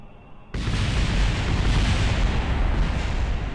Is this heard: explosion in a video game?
yes